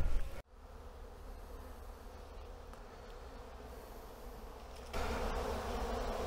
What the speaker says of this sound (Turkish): Binlerce arı burada şu anda ve biraz sonra daha da çoğalacak bunlar.